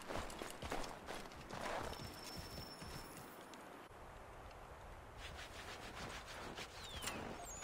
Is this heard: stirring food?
no